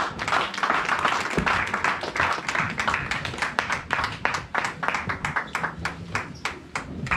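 A church congregation claps and applauds continuously, with dense overlapping hand claps that turn into a rhythmic, steady beat.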